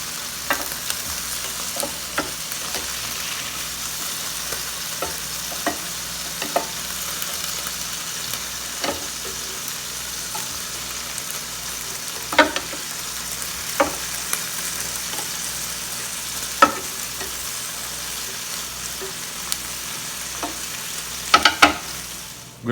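Chili cheeseburger patties sizzling inside a closed Ninja Foodi electric grill, a steady low frying hiss with a constant hum beneath and scattered sharp pops and crackles throughout, close by with no talking.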